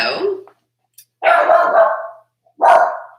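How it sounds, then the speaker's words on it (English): Household dogs bark loud and close, with a short yap followed by two longer, harsh barks separated by brief silences. "and I have dogs."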